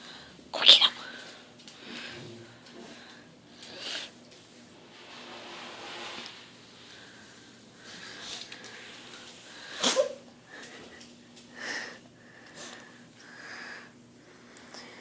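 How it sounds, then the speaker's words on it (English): A dog sneezes indoors: one sharp, close sneeze near the start and another about ten seconds later, with softer snorts and sniffs between them in a quiet room. "Do you have to sneeze again?"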